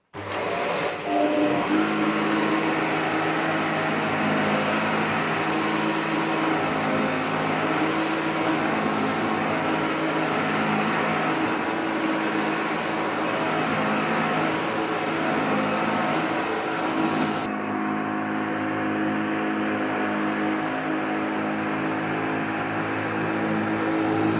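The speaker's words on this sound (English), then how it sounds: "We may as well try it in this short grabby pile, which can be a little bit unforgiving on cleaners" A refurbished Shark DuoClean NV801UK-T vacuum cleaner runs over short, grabby carpet pile, a loud continuous motor roar up close whose tone shifts slightly as it is pushed, then drops near the end.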